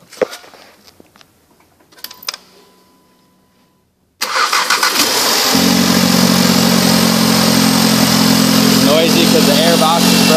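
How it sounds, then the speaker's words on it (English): A 2015 Volkswagen Golf with a broken air box and intake sits quiet at first apart from a few clicks and clunks. Then it cranks and fires, settling into a loud, close, raspy running idle. "Noisy because the air box is broken."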